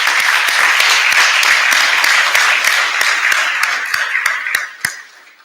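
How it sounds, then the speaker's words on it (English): A crowd applauds at a fire academy graduation ceremony, dense steady clapping with a few sharp individual claps standing out, thinning and fading toward the end. "please give those people a round of applause for everything they do to support this"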